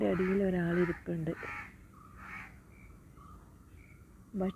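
A crow caws a few times from a short distance, the calls coming in brief bursts while a person talks nearby.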